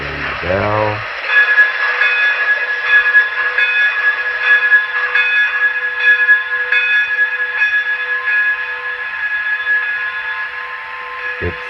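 An N scale Broadway Limited Imports locomotive's sound system rings its bell in a steady, continuous tone, fairly loud and alone after a short burst at the start.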